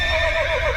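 Grandpa's horse neighs in a single short, loud, close whinny with a wavering high pitch.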